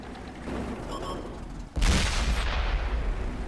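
Artillery fire in the tank battle game World of Tanks on console: a sudden heavy boom midway, followed by a sustained roaring rumble over ongoing battle noise.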